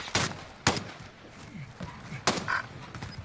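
Gunfire in a battle royale video game: several sharp shots at irregular intervals, loud and close, separated by quieter ambient noise.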